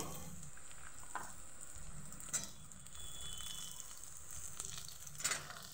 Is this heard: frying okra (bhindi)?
yes